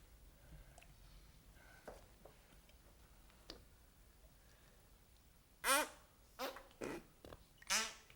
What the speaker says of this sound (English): Let's try a little fart symphony.